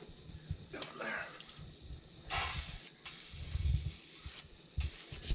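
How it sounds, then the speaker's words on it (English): Liquid Wrench penetrating oil sprayed from an aerosol can into a Polaris RZR Pro wheel bearing housing, several hissing bursts of varying length, close to the microphone with someone talking. "All we're spraying in there is just a little bit of liquid wrench, some penetrating oil, and we're just gonna spray it in here."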